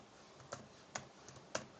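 Computer keyboard typing, faint and distant: a handful of sparse clicky keystrokes over a steady background hiss, with no speech.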